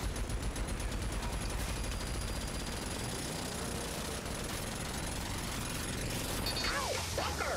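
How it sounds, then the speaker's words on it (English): Dense, continuous gunfire and explosions in the shooter game Rage 2, rapid bursts blending into a loud, unbroken roar of combat. "there's explosions everywhere."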